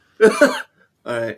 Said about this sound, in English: Yeah, clear your throats.